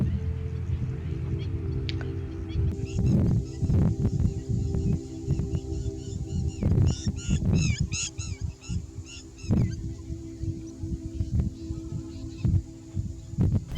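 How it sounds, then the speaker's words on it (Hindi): Water birds and shore birds call at a wetland, with loud goose-like honks and squawks that come in bursts and overlap. A steady lower hum sits underneath the calls throughout. "काफ़ी सारे वाटर बर्ड्स और शोर बर्ड्स हैं यहाँ"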